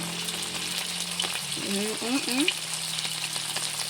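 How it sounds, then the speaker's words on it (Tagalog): Dried fish (bulad) frying in a pan with a soft, continuous sizzle, while a brief tonal sound cuts in partway through and faint background noise runs underneath. "Kailangan na pagprito"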